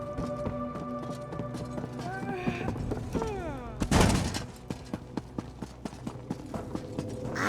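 Footsteps in the Elder Scrolls Online game, a run of sharp regular steps in the latter half, preceded by a rising whoosh and a loud burst, with music and effects underneath.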